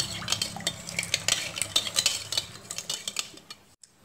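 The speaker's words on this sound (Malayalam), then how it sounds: "ഇതിലേക്ക് 2 ടേബിൾ സ്പൂൺ പഞ്ചസാര ഇട്ട് കൊടുക്കുക എന്നിട്ട് നല്ലോണം ഒന്ന് മിക്സ് ചെയ്യണം കേട്ടോ" A spoon stirs sugar briskly into a yeast mixture in a bowl, producing a rapid, steady run of close scraping clicks against the sides that stops abruptly near the end.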